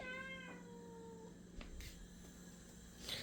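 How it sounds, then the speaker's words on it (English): Pet cats meow indoors: a drawn-out, clear meow at the start, a couple of brief chirps after, and another faint meow at the end, quiet and close with a low steady hum behind. "Got my cats."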